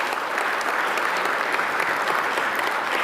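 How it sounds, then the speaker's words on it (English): A crowd at an ethics talk event applauds steadily, a dense even patter of many hands clapping with no break for the full few seconds. "Let's give them a round of applause."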